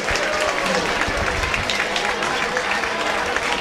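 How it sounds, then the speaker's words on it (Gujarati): Applause from an audience at a Devda family community gathering in Mumbai, honouring members one by one; dense, steady clapping fills the room throughout, close and fairly loud. "હવે તાળીઓ પડવી છે."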